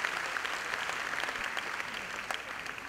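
Audience applause at a 2017 award felicitation ceremony, a steady wash of many hands clapping at moderate distance, continuous throughout without voices standing out.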